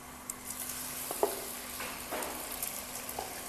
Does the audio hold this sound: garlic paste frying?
yes